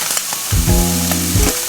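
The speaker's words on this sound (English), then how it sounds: "then I fry them up all together in this pan" Rice and turkey fry together in a pan, a loud close sizzle with a humming tonal whine swelling in the middle of the short burst.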